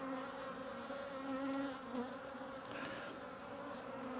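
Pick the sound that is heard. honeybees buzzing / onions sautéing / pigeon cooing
honeybees buzzing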